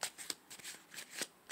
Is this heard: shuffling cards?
yes